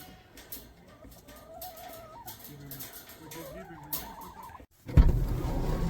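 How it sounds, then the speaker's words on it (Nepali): Black chickens cluck on a farm in Dunster, British Columbia, Canada, with scattered calls under people talking nearby, followed by a sudden louder rumble near the end. "फार्ममा कुखुराहरू टन्नै ब्ल्याक कुखुराहरू चाहिँ"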